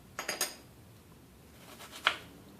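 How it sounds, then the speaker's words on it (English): A kitchen knife chops an onion into fine, thin slices on a board for a crab salad, giving three quick crisp knocks near the start and another sharp tap later, close and fairly quiet. "now I'm cutting up the onion."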